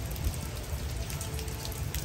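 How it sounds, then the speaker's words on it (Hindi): Heavy rain pours down steadily, a dense, even hiss of drops striking surfaces nearby with no breaks. "बारिश हो रही है बड़ी तेज"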